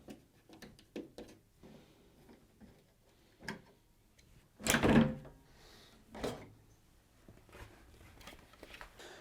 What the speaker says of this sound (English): using the Phillips head, I can remove the top of the appliance by undoing the two screws at the back